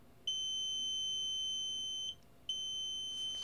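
An Arduino buzzer triggered by a laser receiver module gives a steady high-pitched electronic tone that holds for about two seconds, stops briefly, then sounds again, clean and alone over a faint background hiss.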